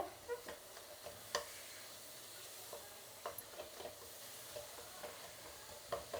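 Garlic cloves stir-fry in a pan for a rasam powder, giving a faint, steady sizzle dotted with soft ticks and occasional spatula scrapes, quiet and close with no talk.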